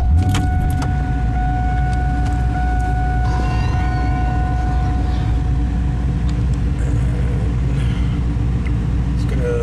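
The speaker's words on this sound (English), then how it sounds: "This is my 2001 Chevrolet LS1 Camaro." A 2001 Chevrolet Camaro with an LS1 V8 idles steadily, a loud continuous low rumble filling the whole stretch, with faint clicks and rattles over it.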